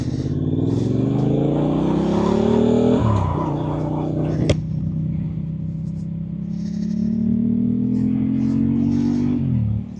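Honda Hornet 750 motorcycle riding on the road, heard from a helmet: a loud, steady engine note climbs through the gears with two clear shift drops and strong wind rush, running continuously throughout.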